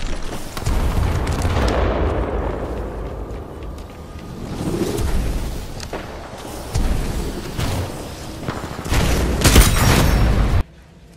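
Gunfire and booming blasts from the sci-fi shooter video game Titanfall 2, a dense run of loud bursts and impacts that swell and fade over about eleven seconds before cutting off abruptly.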